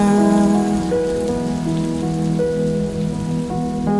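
Steady, loud rain falls continuously on a surface, with sustained musical tones layered over it.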